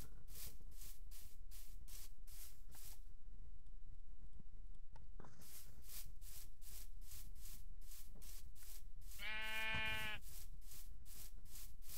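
Sheep in a video game bleating once near the end, loud and close, after a stretch of repeated rhythmic scraping and rubbing noises with a brief quiet gap.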